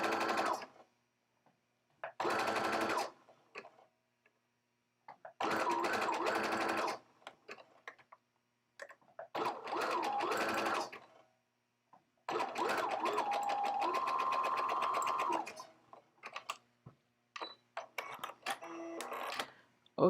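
A sewing machine stitches socks in repeated close, loud bursts of rapid mechanical whirring, each lasting a second or two and separated by short quiet pauses.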